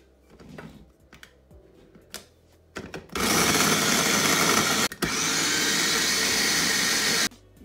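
Chili, ginger and onion being crushed into a purée: a few soft knocks and handling clatter, then two long bursts of loud, steady, motor-like grinding with a brief break between them.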